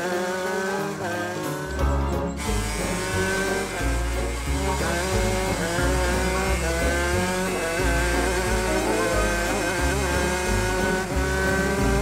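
A cartoon race car revs its engine with tires squealing, all of it buried under loud, busy music that runs the whole time without a break.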